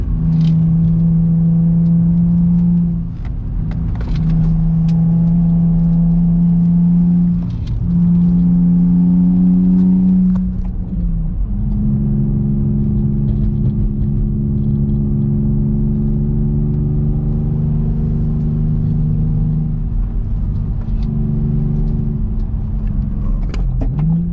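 A modified G35 car engine drones steadily at close range, with repeated gear changes and rising revs as it accelerates, a deep, throaty rumble throughout.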